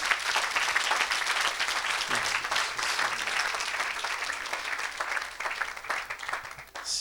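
A church congregation applauds and cheers throughout, a dense, sustained roar of clapping filling the room from start to finish with little letup.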